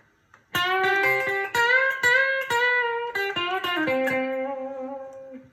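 Clean Epiphone Uptown Kat electric guitar on the bridge pickup only, through a Vox modeling amp, picks a quick melodic run with a bright, twangy, thin tone, notes sustaining briefly before the final one fades.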